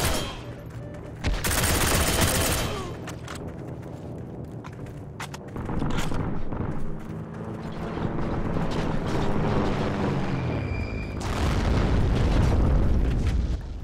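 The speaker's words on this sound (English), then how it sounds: "He threw a nade out the back." A grenade explodes in the video game Heroes and Generals. One loud, broad blast lands early, with a rumbling tail, amid ongoing battle noise, mechanical clatter and scattered gunfire, and another heavy boom comes near the end.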